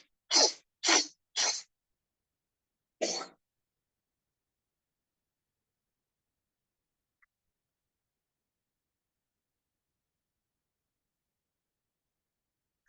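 Forceful sneezes during a yoga nasal cleansing exercise: three quick sneezes in a row, then a fourth after a short pause, close and loud, followed by a long silence.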